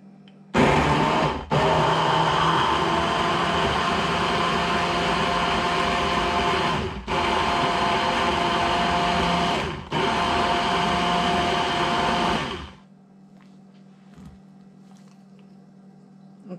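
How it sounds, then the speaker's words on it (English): Kitchen blender whirring loudly and steadily as it blends a beef marinade with vegetable oil, starting abruptly, briefly dipping twice, then cutting off to a quiet room hum near the end. "And we're going to blend that for about 30 seconds"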